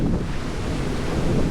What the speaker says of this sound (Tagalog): Kahit dito hindi masyado malakas sa alon.